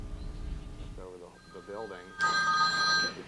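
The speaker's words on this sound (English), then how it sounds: "This phone probably wasn't ringing this time last year." An office telephone rings loudly and steadily for about a second near the end, following brief speech.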